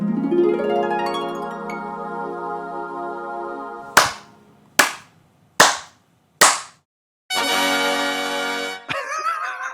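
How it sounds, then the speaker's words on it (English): Four sharp, separate hand claps ring out one after another with short gaps, loud and close, following a held musical tone, with another burst of sound trailing after. "you just heard him clapping"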